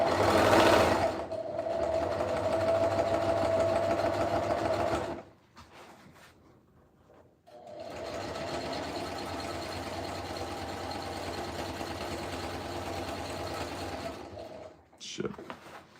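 Home sewing machine stitching a camo helmet cover near the fabric edge, a steady whirring run for several seconds, a brief pause with faint handling, then another long even run ending in a few short bursts.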